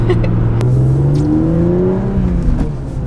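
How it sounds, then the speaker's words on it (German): A BMW E36 M3 with a Supersprint rear silencer revs loudly and steadily nearby, its deep exhaust note rising in pitch and then easing off, with no talking. "den geilen Sound von der Supersprint bzw. von dem Supersprint-Endschalldämpfer mal auf die Ohren bekommt"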